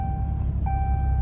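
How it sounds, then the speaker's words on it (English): Truck seatbelt warning chime, a steady high-pitched electronic ding held over a low engine and road hum while driving. "the truck is dinging because I don't have my seatbelt on"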